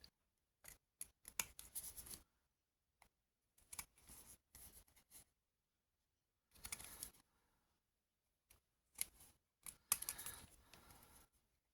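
Scissors trim the white edges off paper cards for a junk journal, sounding as close, crisp bursts of snipping separated by silent pauses.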